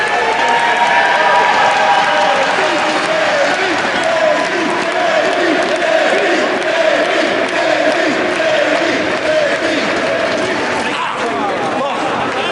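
Loud, sustained wrestling crowd noise in Chicago, a dense roar of cheers and chants filling the arena throughout, with a commentator talking over it.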